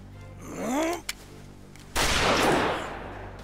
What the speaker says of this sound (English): Oh, she shot him.